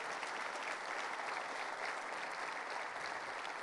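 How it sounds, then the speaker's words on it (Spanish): A church congregation claps loudly and steadily, a dense, even wash of many hands filling the room for several seconds with no speech over it. "A ver, aplauda a Jesús fuerte."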